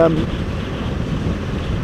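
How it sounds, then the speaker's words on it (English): Strong wind from Storm Desmond buffets the microphone with a loud, continuous roaring rumble, gusty and close, with no clear voices. "Quite blustery, really windy today."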